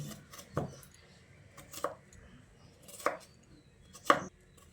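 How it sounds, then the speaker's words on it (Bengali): Potatoes being finely chopped with a knife on a board, four sharp, separate knocks spaced about a second apart over a quiet background. "এবার এই আলুগুলোকে এরকম একটু মিহি করে কুচিয়ে নিচ্ছি।"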